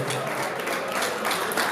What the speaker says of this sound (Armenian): ծափարենք իրենք